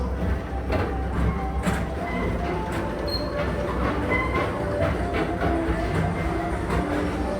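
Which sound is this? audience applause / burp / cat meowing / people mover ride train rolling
people mover ride train rolling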